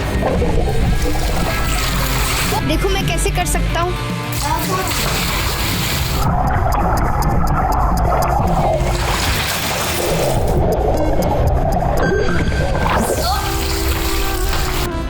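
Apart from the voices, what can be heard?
water splashing as someone goes underwater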